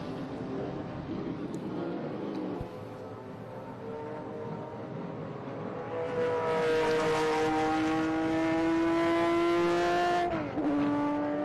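Air-cooled Porsche race cars at the Governor's Cup race roar past, starting as a distant rumble and building to a loud, high revving whine as one car passes close, then dropping away sharply.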